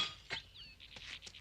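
A glass lantern drops and shatters, giving a bright crash followed by scattered tinkling of broken glass pieces, fairly close and with no voices over it.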